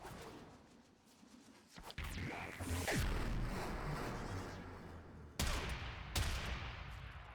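Gunshots in a Warframe-style shooter game during a Hek weapon riven test, several sharp loud blasts with booming tails, separated by short pauses and fairly close.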